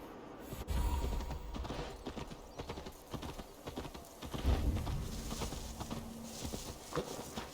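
Horse hooves in Assassin's Creed Valhalla clip-clop in a steady trotting rhythm, moderately close, over a low rumbling background with faint mechanical noises.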